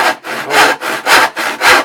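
Hand saw cutting scrap timber for a cabinet: rhythmic back-and-forth rasping strokes, about four full push-pull cycles, loud and close with no talking.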